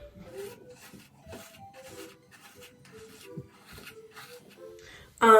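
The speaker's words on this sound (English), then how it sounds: "now I'm gonna go back in with my Tangle teaser and brush this back" Tangle Teezer brush stroking gel-sleeked short natural hair back into a high puff: a series of soft, close rasping brush strokes in a steady rhythm, ending in a brief loud rustle.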